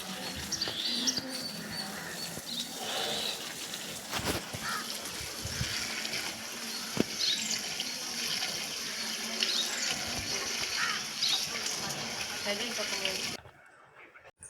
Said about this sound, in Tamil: எல்லா செடிங்களுக்கும் தண்ணி விட்டு முடிச்சிட்டேன்.